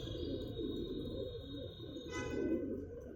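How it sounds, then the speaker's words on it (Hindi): Low, soft cooing of pigeons murmuring continuously in the background, fairly faint, with a steady high electronic hum running throughout. "ये मेरे कई कबूतर आप देखोगे"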